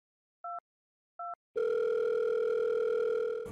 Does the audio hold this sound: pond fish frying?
no